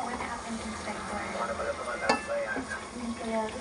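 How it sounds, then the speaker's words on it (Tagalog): Chicken liver and gizzard fry in a non-stick pan as coconut milk goes in: a steady sizzle with stirring scrapes and one sharp clink of a utensil against the pan. "ilagyan natin ng gata"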